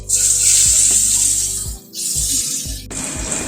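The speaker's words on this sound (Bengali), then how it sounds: "আলুটা দিয়ে অল্প একটু নুন দিয়ে দিলাম আলুটাকে ভেজে নিচ্ছি আগে" Potatoes fry with a little salt in a pan after whole spices and a torn bay leaf are tempered in the oil. A loud, continuous close sizzle briefly dips, with a few soft knocks from the pan.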